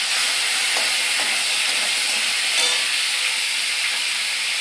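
Shrimp sizzle steadily in hot mustard oil, a constant close, bright frying hiss with a few faint stirring scrapes and no talking.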